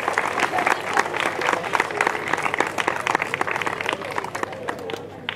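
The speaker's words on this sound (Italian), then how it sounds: "un altro applauso, se lo meritano tutti" Audience applause at an outdoor band concert honouring the Madonna during a town festival, crisp individual claps forming a lively, moderately loud round that continues throughout with crowd voices mixed in.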